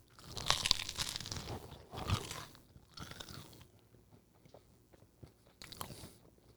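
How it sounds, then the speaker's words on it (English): Loud crunchy bites into a ham and pulled pork sandwich dressed with smoked paprika and cayenne mayonnaise mustard, several close crisp crunches followed by softer chewing. "And listen to this crunch."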